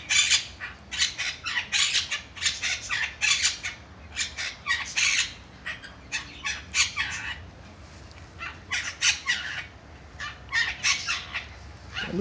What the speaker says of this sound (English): The duck is coming to investigate.